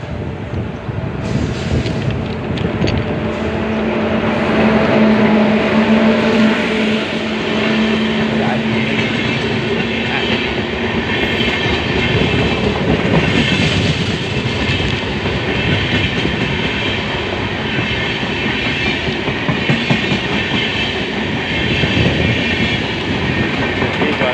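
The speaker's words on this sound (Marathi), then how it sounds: "परत ट्रेन आलेली आहे, तर ती ट्रेन तुम्हाला दाखवतो मी" A train rumbling past, loud and close, its wheels clacking rhythmically over the rails throughout.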